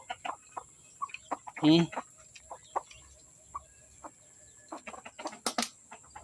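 Chickens cluck in short scattered bursts among ducks at feeding, one louder squawk near the start, with soft background noise and faint voices around them.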